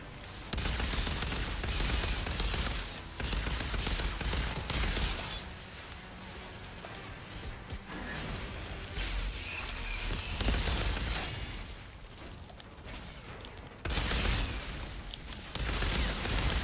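Gunfire in the video game Outriders: dense, continuous bursts of weapon fire and impacts fill the whole stretch, loud and near, with brief dips between volleys.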